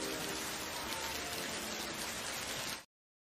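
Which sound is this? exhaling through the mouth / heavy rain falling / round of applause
heavy rain falling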